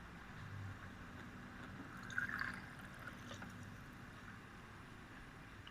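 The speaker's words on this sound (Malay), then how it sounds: "Saya nak masukkan air sedikit" A little water is poured into a cooking pot, making a faint, brief trickle and splash over quiet kitchen background noise.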